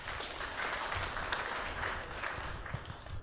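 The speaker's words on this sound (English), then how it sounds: "Give him a round of applause." A room full of people gives a round of applause, dense steady clapping that holds evenly for the whole stretch, moderately distant and fairly faint.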